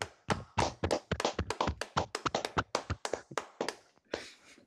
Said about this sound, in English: Let's give a round of applause for that one.